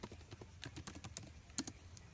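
Rapid, uneven keystrokes on a computer keyboard while network configuration commands are entered, close and fairly quiet, with a few sharper clacks near the end.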